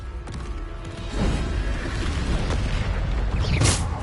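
A Bombarda explosion spell in Hogwarts Legacy erupts as a loud, broad rumbling blast that swells after a second and keeps booming, topped by a brief whooshing burst near the end.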